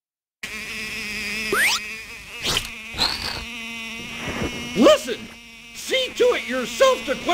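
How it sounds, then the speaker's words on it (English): Flies buzz around a table in a 1995 Western film scene, their whining drones close and shifting in pitch, mixed with other brief sounds and voices. "yourself to quench the thirst of these flies buzzing around here."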